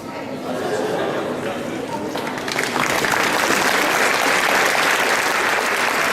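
A crowd at a cosplay parade at a Japan-themed convention applauds a cosplay group, the clapping swelling to a loud sustained roar with cheering and chatter mixed in, and a voice talking over it early on.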